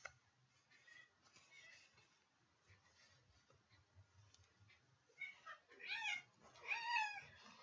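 A cat gives a couple of short meows toward the end, close but fairly soft, after a stretch of quiet low room noise.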